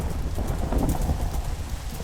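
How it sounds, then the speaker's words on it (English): Heavy, steady thunderstorm rain in a video game, a dense roaring wash with low rumbling underneath, continuous throughout. "thunderstorm."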